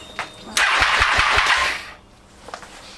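A motorbike engine cranks in a short rough burst with rapid chuffing pulses, then falls away without catching, leaving quiet background noise and a faint knock.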